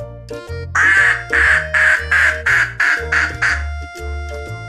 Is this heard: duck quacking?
yes